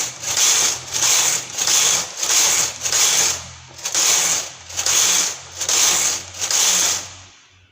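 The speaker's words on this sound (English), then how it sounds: "So I'll continue knitting." A hand-operated knitting machine working a hairband, its carriage swept back and forth in a steady rhythm of about nine loud, close ratcheting passes, each separated by a brief pause.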